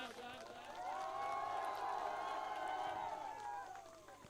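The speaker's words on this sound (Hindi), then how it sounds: "इस गेस्चर के लिए एक बार जोरदार तालियां हो जाए" Applause at a local cricket match in honour of the man of the match, a dense, sustained wash of clapping that swells after a second, holds steady, then tapers off, heard alone without talk.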